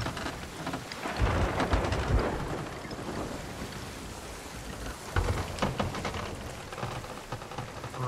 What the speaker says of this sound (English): Oh, we're going into the storm.